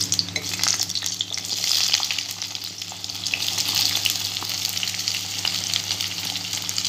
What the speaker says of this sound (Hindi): अब भिंडी फ्राई हो चुकी है और तेल हमारा जो बचा है इसमें हम प्याज डाल देंगे